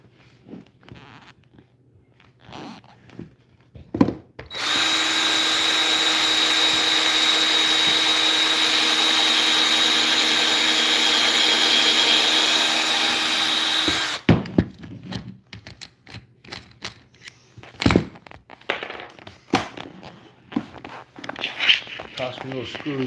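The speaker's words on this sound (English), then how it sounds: "I'm gonna drill a hole on this side too then." A power drill whirs steadily for about ten seconds at close range, bracketed by clicks, handling noises and a person talking before and after.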